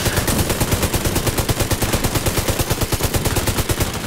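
A deployed automatic turret in The Division 2 fires a loud, rapid, evenly spaced stream of shots for several seconds without letup, heard alone.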